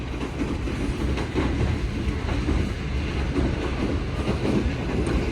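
A Pakistani passenger train, the Green Line running from Lahore toward Karachi, rolls on its rails with a constant loud rumble and faint rhythmic clatter throughout, heard from on board with no voices.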